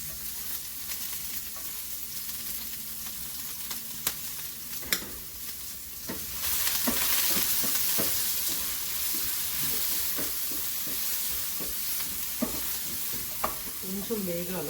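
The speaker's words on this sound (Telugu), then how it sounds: "ఇది ఆలివ్ ఆయిల్, అసలు ఎక్కువసేపు కాగకూడదు. So first onion వేసేద్దాము." Onion and green chilli sizzle and fry in olive oil in a pan, a steady close crackle with occasional stirring clinks and scrapes, louder after the first ingredients go in.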